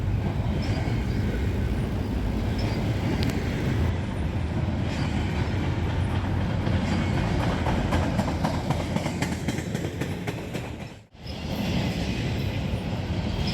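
A long freight train of mostly empty container cars rolls past a trestle at night, a steady rumbling roar with faint wheel clicks, briefly dipping near the end before resuming.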